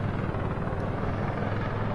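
A video game helicopter in flight, its rotor and engine giving a loud, steady, close drone with nothing else over it.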